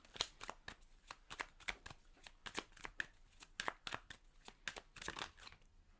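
Tarot cards are shuffled and drawn close up in a rapid run of crisp flicking riffles and slaps, with no voices.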